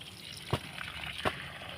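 Spring water flows and trickles steadily nearby from a free-flowing natural spring, with a couple of brief splashes breaking the soft continuous stream.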